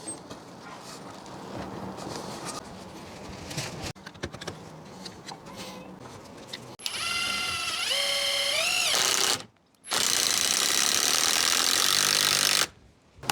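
An impact driver drives screws into a scrap-wood planter, with bursts of whirring and ratcheting in quick succession and a brief pause between the runs, loud and close.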